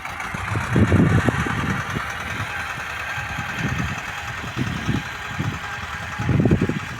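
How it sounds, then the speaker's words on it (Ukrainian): A tractor engine idles steadily throughout at a moderate distance, a continuous mechanical drone with a few louder bursts, heard in a garden being prepared for planting potatoes. "На тракторі катається."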